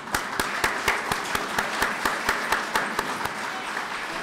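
An audience at a firefighter academy graduation gives applause dominated by slow, regular, sharp hand claps about four per second, with fainter clapping behind them.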